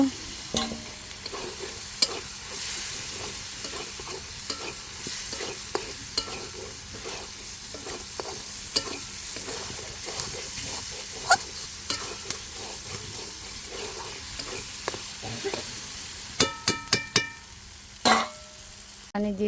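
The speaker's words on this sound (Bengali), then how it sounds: "পেঁয়াজ হলো কষায় নিলাম এখন হলো একটু টমেটো ছেড়ে দিব" Onions and tomato frying in a pan for a pangas fish curry, a steady sizzle broken by repeated scrapes and knocks of a stirring spoon, with a few sharp clinks near the end.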